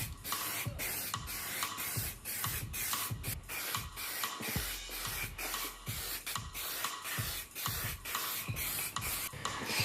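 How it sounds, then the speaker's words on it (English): White heat-resistant paint sprayed from a can in a rapid series of short hissing bursts, close and loud, repeating steadily with no talking. "so I'm just going to use this white heat resistant paint"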